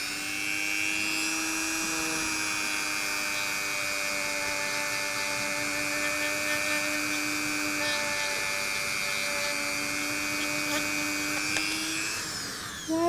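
Dremel 300 Series multi-tool running on high, a beeswax-loaded pad polishing a shell for jewellery. Steady, close whine with sustained tones, continuous for the whole stretch with no talk.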